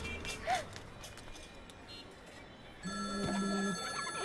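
A telephone rings with an electronic trill near the end, after a quieter stretch of room noise and faint movement.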